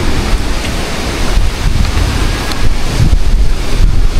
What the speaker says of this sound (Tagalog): Yeah, medyo malakas ang hangin.